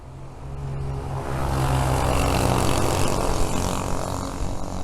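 Small propeller aircraft or paramotor droning overhead above a wintering apiary in January, its steady engine swelling to a peak midway and fading slightly, heard alone without talk.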